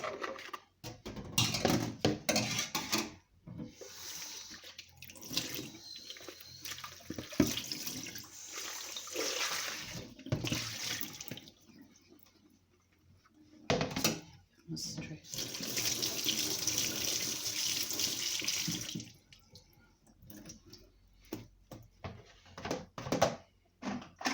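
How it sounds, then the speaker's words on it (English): Water from a kitchen tap runs over a bowl being rinsed, heard as close, steady splashing that stops and starts in several bursts with short quiet gaps. "So I'm gonna give my bowl a rinse."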